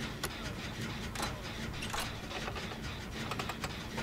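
An engine in the video game Dead by Daylight runs with a continuous rattling, mechanical churn and scattered clicky ticks, loud and steady throughout.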